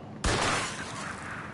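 Gunfire in Mafia II Definitive Edition erupts suddenly as a dense, loud volley of shots that blur into a sustained roaring clatter, then lingers and slowly fades.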